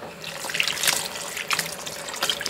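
Lukewarm tap water runs into a kitchen sink for soaking vegetables in a steady splashing stream, close by and continuous, with small surges in the flow.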